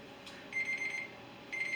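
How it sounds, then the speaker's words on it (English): A timer alarm goes off in a quiet room, sounding a shrill electronic tone in two separate bursts, each lasting about half a second, fairly faint with no talking. "This is my timer."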